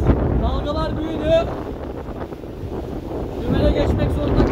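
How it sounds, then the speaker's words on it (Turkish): Strong wind roars across a sailboat caught in a sudden storm on the Red Sea, with rough water washing against the hull, loud and continuous, and a voice speaking briefly over it. "Dalgalar büyüdü."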